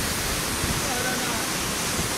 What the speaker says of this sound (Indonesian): Ini adalah daerah air terjun.